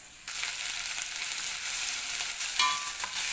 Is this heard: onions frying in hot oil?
yes